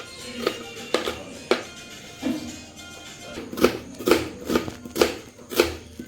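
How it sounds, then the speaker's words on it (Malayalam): Onions being cut on a board for a street-stall omelette: a run of crisp knife taps, sparse at first and then quicker and more regular, close and fairly loud, with no voices. "കട്ട് ചെയ്തുകൊണ്ടിരിക്കുകയാണ്"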